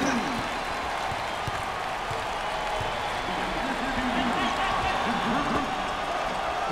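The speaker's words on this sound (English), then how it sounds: "Listen to that roar" A packed arena crowd roars steadily and loudly through a Kentucky at Louisville college basketball game, a continuous wash of cheering with commentators talking over it.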